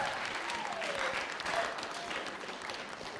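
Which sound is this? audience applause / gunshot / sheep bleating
audience applause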